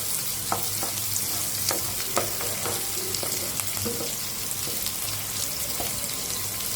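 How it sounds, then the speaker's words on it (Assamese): Onions fry in hot oil over a medium flame, a steady close sizzle with scattered stirring clicks and light scraping against the pan, no voices. "পিঁয়াজখিনি বেছি জ্বলি যাব নালাগে, এটা মিডিয়াম ফ্লেমতে ইয়াক ভাজি থাকিব লাগে।"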